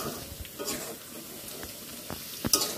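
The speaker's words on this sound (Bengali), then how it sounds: "এই যে পেঁয়াজটাকে ভাজতেছি" Chopped onions sizzle steadily in a hot pan for a Bengali kala bhuna, with intermittent scraping stirs and a few sharper clinks of the spatula against the metal, close and moderately loud, with no talking.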